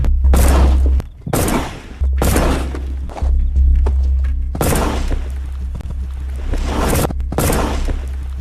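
Gunshots ring out during sniper training in a film scene, fired right beside the volunteers: about six loud, close blasts, each with a deep boom and long decaying echo, spaced roughly a second apart.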